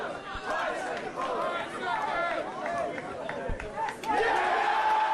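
A wrestling arena crowd roars and chants during a Lance Storm versus Christian Cage match, a busy, surging din with scattered shouts and a commentator talking over it.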